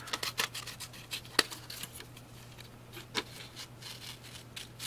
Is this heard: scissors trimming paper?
yes